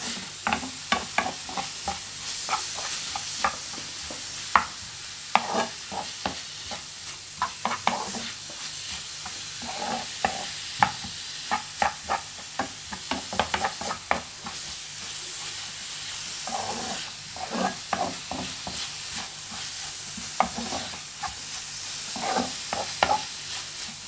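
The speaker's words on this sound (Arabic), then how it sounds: "انا نبقى نحرك بحال هكا حتى يتشحر هادشي مزيان" A savoury filling stirred in a frying pan until browned, a continuous soft sizzle broken by frequent scraping and tapping strokes of a spoon, close by and without speech.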